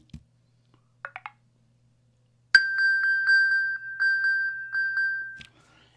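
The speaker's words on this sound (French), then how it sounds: "votre iPhone sonne et le flash se met en marche" An iPhone plays its alert sound: a few short soft chirps, then a loud, clear, pulsing high electronic tone repeating for about three seconds before stopping, alone in silence.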